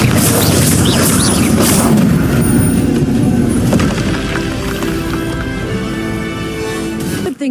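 Bombarda explosion spell cast in the Hogwarts Legacy video game, a loud sustained blast with booming rumble and crackling debris that gradually settles and fades over several seconds.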